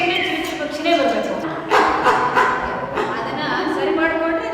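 A voice imitates a dog barking, giving a series of yapping bow-wow bursts and short yips, close and loud, with no real animal present.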